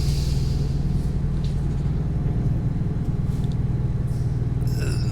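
A deep, steady Freightliner Cascadia truck engine drones continuously with a low rumbling hum in American Truck Simulator, with no talking over it.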